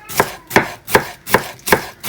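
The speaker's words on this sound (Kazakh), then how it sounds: "капустаны ұсақтап, ұзыншалап," A knife chops cabbage into thin strips on a board, six crisp, evenly spaced cuts at close range with no talk.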